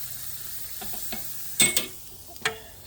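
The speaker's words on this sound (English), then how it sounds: "sear both ends, both sides, I mean" Pork butt sears in a hot pan for Ilocano-style barbecue, a soft sizzle broken by a few sharp spatters and clicks of turning near the middle, with no voices.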